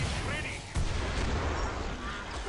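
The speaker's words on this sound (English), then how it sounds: "That's the explosion perk working as magic." In a video game, an explosion perk sets off a sudden blast that is followed by a loud, continuous rumble of booms and bursts. Players' voices can be heard under the noise.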